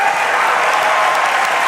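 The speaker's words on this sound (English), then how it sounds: "Well-deserved applause from the audience as well." An audience at a Rubik's Cube speedcubing world championship final applauds, a brief, loud and even wash of crowd clapping with no voices on top.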